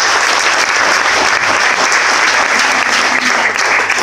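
Loud, dense applause from a large crowd at a live concert, sustained and even throughout without a break.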